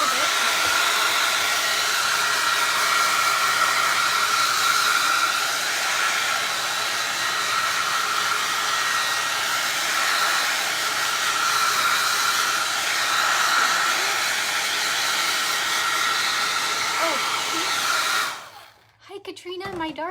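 A hair dryer blows steadily and loudly on a freshly painted pumpkin, a constant close whooshing hiss that holds for about eighteen seconds before cutting off abruptly.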